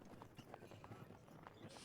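Hooves of a horse in a video game clip-clop in an even, steady trot, soft and low in level, with a burst of hiss at the end.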